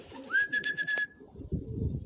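A pigeon coos softly up close, with a brief whistle-like tone riding above it, then low cooing continues at a moderate level.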